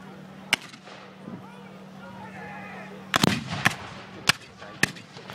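Cannon at a Veterans Day Civil War reenactment battle fires five sharp, booming reports at irregular intervals, the later ones clustered together, over a steady low background hum.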